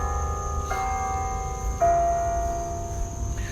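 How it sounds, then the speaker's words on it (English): Church bells ring in a few separate, clear metallic strikes, each leaving a sustained humming tone that decays slowly at moderate distance over a quiet background. "They love to play the bells."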